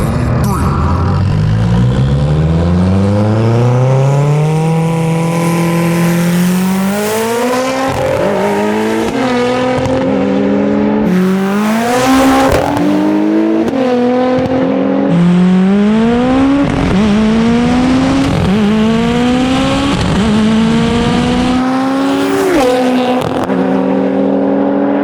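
A 700hp Nissan GT-R and a 675hp Mitsubishi Evo X accelerate hard side by side in a roll race, engines screaming up through repeated gear shifts with brief drops between rising sweeps, loud and close from inside a car.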